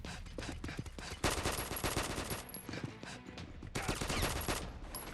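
Bursts of automatic gunfire from the mobile first-person shooter Combat Master, loud rattling volleys in two long stretches with brief lulls between.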